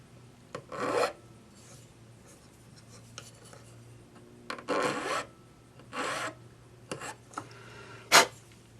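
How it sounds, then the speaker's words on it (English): A metal rivet end is filed smooth while making a single bead ring, heard as several separate rasping strokes spread through a quiet room, each a short gritty scrape, with one sharper, louder stroke near the end. "File the end of your rivet smooth."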